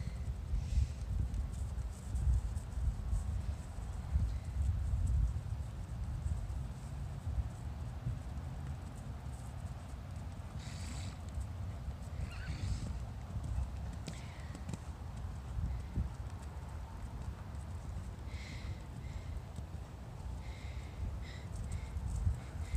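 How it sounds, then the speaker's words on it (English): Horse cantering in a riding arena, a steady rhythmic thud of hooves on soft footing continuing throughout at moderate distance, with faint background sounds and no clear talk. "Okay, up into a canter whenever you're ready."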